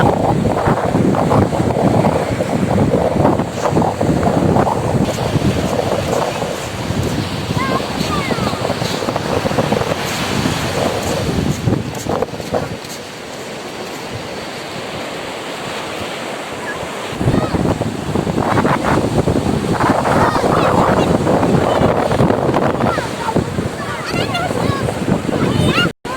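Sea waves roll and crash on a cold day at Boujdour, a continuous loud roar of surf mixed with gusting wind buffeting the microphone, with a brief lull midway before the surge returns.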